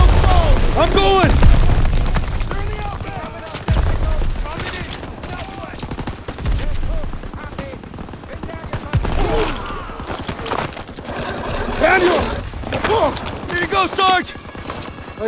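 A dense wartime battle in Call of Duty: WWII, with rapid machine-gun bursts, scattered rifle shots and heavy booming blasts layered into a loud, continuous din, with shouting voices cutting through the chaos.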